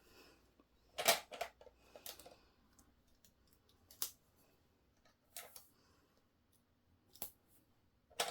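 Scissors cut through paper while drafting a mandarin-collar blouse pattern, giving a few sharp, separate snips and crisp paper rustles spread over a mostly quiet stretch, close by and with no talking.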